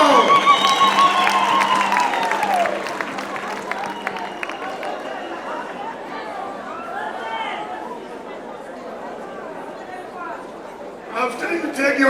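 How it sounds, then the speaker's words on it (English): Crowd applause and cheering at an ANC Gauteng provincial January anniversary event, with steady clapping mixed with loud chatter and shouts, easing slightly midway and swelling again at the end. "Let's give them a round of applause"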